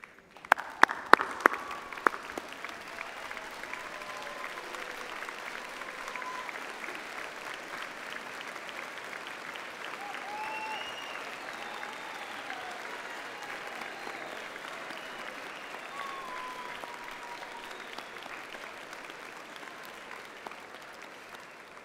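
A graduation ceremony audience at a university media and communication faculty breaks into sustained applause, opening with a few sharp nearby claps before settling into a steady, even roar of many hands for about twenty seconds, with a faint voice briefly audible.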